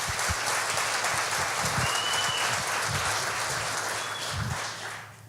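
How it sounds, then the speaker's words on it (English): Audience clapping at a chamber of commerce community awards event, a dense steady patter of many hands that fades out at the end. "let's give her a round of applause"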